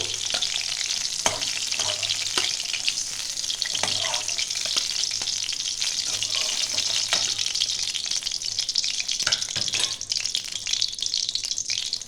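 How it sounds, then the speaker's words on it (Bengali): Pointed gourd (potol) slices fry in hot oil, giving a steady, close sizzle with occasional stirring clinks across the whole stretch, and no voices over it. "আমি পটলটা একটু লাল লাল করে ভেজে নিচ্ছি"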